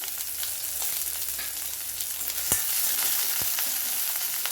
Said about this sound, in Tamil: கொஞ்சம் ஒரு பெரிய வெங்காயம் போட்டு மீதி எல்லாம் சின்ன வெங்காயம் போட்டிருக்கேன் கூட ஒரு நாலு பல் பூண்டு போட்டுக்கிறேன்